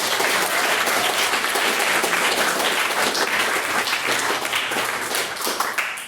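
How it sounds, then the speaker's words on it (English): Audience applause following a maiden speech at a debate on allies in queer spaces: sustained, full clapping from a crowd in a hall, loud and even throughout with no speech over it. "can we please get one final round of applause for another magnificent maiden speech?"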